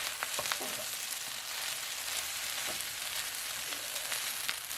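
Thai-style prawn fried rice with basil and spring onions sizzling steadily in a hot pan, with soft scraping stirs breaking through the constant frying hiss; no talking.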